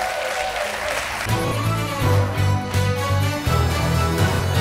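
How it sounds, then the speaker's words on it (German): Studio audience clapping on a German TV quiz show, with music playing underneath and a voice over the top as the applause rolls on for a few seconds. "Auch nochmal einen ganz großen Applaus, ganz toll gemacht von unserem Meister."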